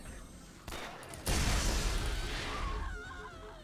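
Video game gunfire from a machine pistol and revolver in Borderlands: a sharp shot, then a dense burst of rapid fire that trails into a fading mechanical whine, loud and with no talk.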